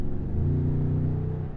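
A 2014 Toyota Tundra Platinum pickup gives off a deep, steady exhaust rumble, loud and close, holding an even bassy drone throughout with no talking over it.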